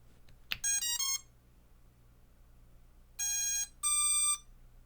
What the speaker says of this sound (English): We will hopefully get all of our beep patterns, and we'll see our typical lights